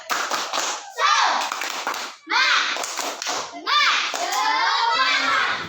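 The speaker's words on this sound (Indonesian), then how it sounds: "Kita lakukan tepuk semangat." Children in a classroom chant a 'tepuk semangat' spirit cheer, loud bursts of young voices broken by short pauses, with rhythmic hand claps and taps mixed under the shouting.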